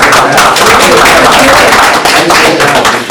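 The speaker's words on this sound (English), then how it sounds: "Let's give Jody a round of applause." A class audience applauding a presenter, loud close clapping from a small crowd filling the room, dense and even throughout with a slight dip near the end.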